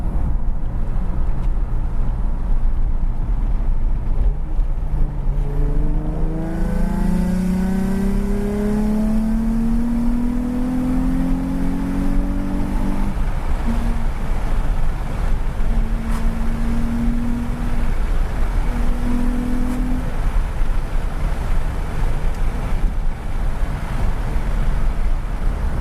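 A Nissan 350Z with decats, a new Y pipe and standard Nissan headers revs up with a rising engine drone over steady road or wind rumble, then holds a few shorter blips further on.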